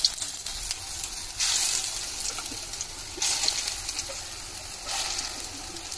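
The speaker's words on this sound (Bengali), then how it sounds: "তেলটা গরম হয়ে গেছে, আমি আস্তে আস্তে দিয়ে দিচ্ছি বড়াগুলো।" Palta leaf fritters fry in a small amount of hot oil in a kadai, giving a steady close sizzle with brief louder bursts as more batter is dropped in, no talking.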